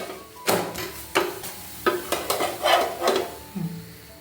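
A cucumber paratha roasts on a hot pan while it is turned and pressed. Soft scraping and tapping come in short bursts over a light sizzle, close by, with no voices.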